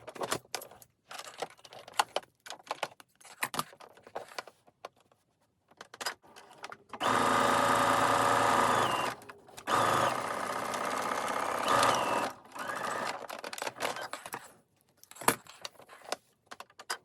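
A sewing machine stitches lines through a can cozy's lining and wadding in two sustained runs of a few seconds each, surrounded by quieter clicks and handling noises.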